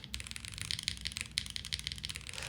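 Rapid clacky typing on a mechanical keyboard, a dense run of crisp keystrokes close up, with no voices.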